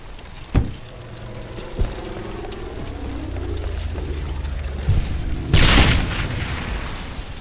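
A grenade explosion in the World War II shooter Brothers in Arms: Hell's Highway, a loud close blast near the end, preceded by scattered thuds and distant booms over steady battle rumble.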